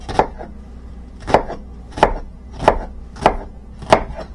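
Knife dicing an onion on a cutting board, six crisp evenly spaced chops about two-thirds of a second apart, close and clear with no talking.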